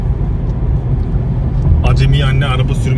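A car driven by a learner accelerates, its engine a loud, steady low rumble that swells as it speeds up, with people talking over it in the second half.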